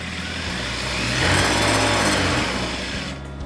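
A sewing machine runs steadily at speed, stitching piping around a curve on a cushion cover with back tacking, a loud close continuous whir that swells slightly and then winds down near the end.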